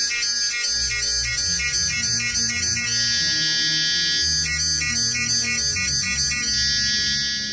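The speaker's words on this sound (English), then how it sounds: "So these are different kind of cicada sounds that I'm going to use in this video" Loud, continuous cicada buzzing with pulsing, rhythmic trills layered over one another, steady throughout with no other sounds.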